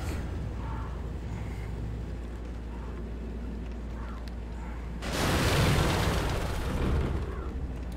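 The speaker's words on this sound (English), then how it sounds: "There's some fire bombs." Fire bombs burst in the Demon's Souls game, a loud rushing explosive roar that swells suddenly after a quieter stretch of low game ambience and lingers for about three seconds.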